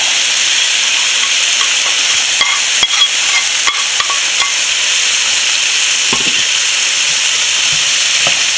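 Jackfruit seeds with roasted coconut and crushed chilli are stirred in a hot pan, a loud constant sizzle broken by scattered clicks and scrapes of the spatula, no voices.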